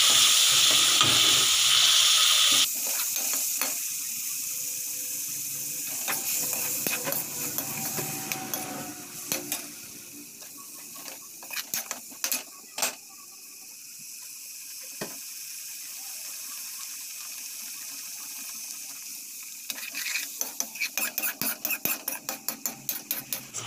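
Tomato and onion paste frying in a pan for egg curry, giving a steady loud sizzle and hiss that runs throughout, with clicks and scrapes of stirring and a rhythmic tapping near the end.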